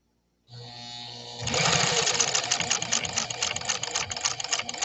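A PFAFF 130-6 sewing machine starts with a motor hum after a short silence, then breaks into fast, even, rhythmic stitching that runs loud and close until the end.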